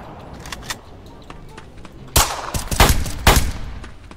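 Sharp gunshots from a Hi-Point pistol in a video game, a few scattered pops followed by a louder rapid cluster of shots, with background game noise between them.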